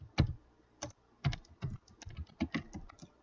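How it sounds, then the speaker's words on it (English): Keystrokes on a computer keyboard while entering Python code, a steady run of close, crisp taps in short irregular bursts with no talking. "So for example, let's type a few things."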